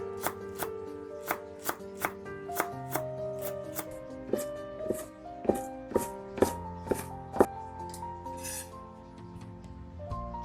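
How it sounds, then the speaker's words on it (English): Knife chopping vegetables into small pieces on a board for dumpling filling, a steady series of close, sharp chops at a regular pace with a faint pitched hum behind and no talking. "Chop the vegetable into small pieces."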